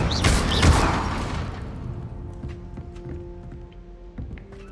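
An Incendio fire spell is cast in Hogwarts Legacy, erupting in a loud burst of whooshing flame and crackle. It fades over several seconds into quieter ringing tones and light taps.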